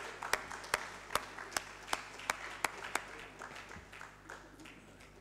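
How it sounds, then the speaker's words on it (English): An audience at a land surveying seminar applauds with sharp, fairly even claps that fade into a looser, quieter patter toward the end. "Shall we welcome him with a clap of"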